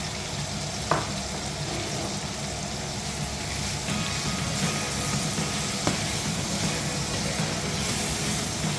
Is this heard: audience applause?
no